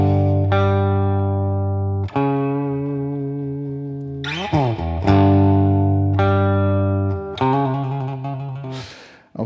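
A clean electric guitar with no distortion plays a slow, heavy riff; sustained low chords ring out one after another, each struck loudly and left to decay, with a quick slide between them.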